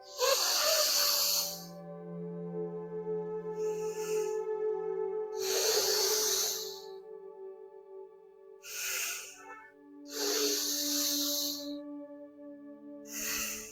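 Audible breathing during a finger-press hand exercise: slow, hissing breaths drawn in and let out in long cycles, several paced cycles heard close-up, with a steady tone humming underneath.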